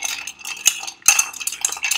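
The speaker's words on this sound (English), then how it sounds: "I'm going to stir. And you want to get this nice and cold" A bar spoon swirls ice in an Old Fashioned cocktail, giving a close, bright rhythmic clinking and rattling of cubes against glass, with no talking.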